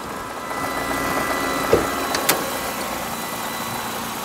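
A 1996 Mercedes-Benz C220 with its 2.2 liter engine idles steadily under the hood, a smooth, constant hum with a couple of brief clicks or taps partway through.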